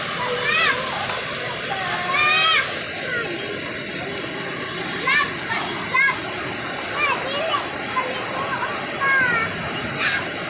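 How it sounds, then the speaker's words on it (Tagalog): Rainwater drips steadily from a leaky house roof into a filtering container, a broad splashing wash of water running throughout with a voice and chatter coming and going over it. "Bawat tulo ng bubungan namin. Sinasala namin."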